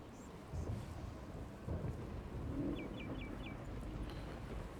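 A low, rolling rumble of thunder from a lightning spell in the Sacrifice strategy game swells and fades over a few seconds, with a quick run of small chirps high above it.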